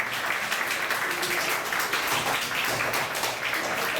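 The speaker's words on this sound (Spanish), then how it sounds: "para quien pido fuertes palmas" A school audience at Colegio San Marcos del Sur applauds a visiting author from Paris, with steady, dense clapping that fills the room for the whole stretch at an even, loud level.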